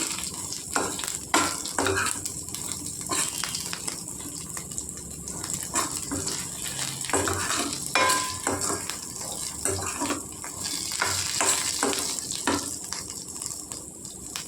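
Cumin seeds frying in a pan for a green chilli pickle, a close sizzle broken by repeated scraping stirs in an uneven rhythm.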